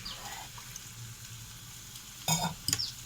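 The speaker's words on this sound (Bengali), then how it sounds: "ভাজা হোক, ভাজা যত হবে তত ভালো লাগে" Food fries in a pan with a soft, steady sizzle close by, then sharper clattering stirs and crackles near the end, with no talking.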